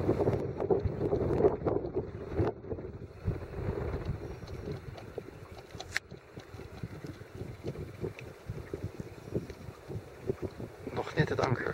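Wind at sea buffets the microphone aboard a Drascombe Coaster sailboat off the Frisian coast, with gusty low rumble and water movement, while someone talks in Dutch.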